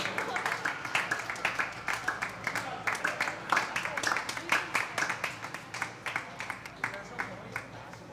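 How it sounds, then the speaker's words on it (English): An audience claps for a third-place award winner at a competition event, a steady run of rhythmic hand claps from a modest crowd, fairly close and even throughout. "Let's give a round of applause"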